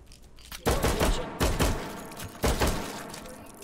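Pistol shots at a shooting competition, several loud sharp cracks, roughly three main bursts spaced a second apart, each trailing off in echoing reverberation.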